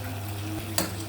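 A spoon stirs meat sizzling in a hot pan, a steady crackle with a couple of brief louder scrapes near the end.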